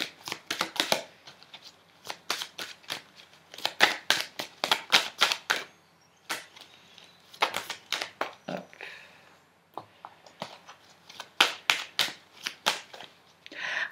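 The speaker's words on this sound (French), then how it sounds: "on va tirer une dernière carte là" Tarot cards being shuffled and drawn, a dense run of crisp riffling and slapping bursts in clusters with short pauses, close and fairly quiet, with no talk over them.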